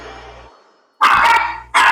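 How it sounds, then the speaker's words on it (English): A dog barks twice, sharp and loud, right up close. The barks come after a quieter stretch of low background sound and are spaced under a second apart. "Seriously, the dog still won't shut up!"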